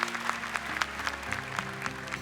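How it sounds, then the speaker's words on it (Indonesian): An audience in a studio at a televised Indonesian Quran memorization competition applauds for the jury, a steady patter of clapping with musical tones sustained underneath. "Tepuk tangan untuk Dewan Juri yang mendoakan juga."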